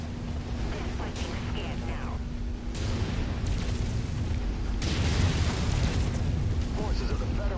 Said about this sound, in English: Ammo explosion detected.